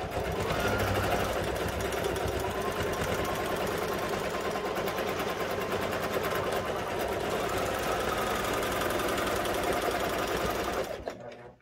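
Baby Lock Jazz II sewing machine stitching, a continuous fast mechanical whirring hum held steadily for about eleven seconds before stopping abruptly, close and alone.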